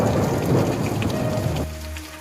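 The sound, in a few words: rain with thunder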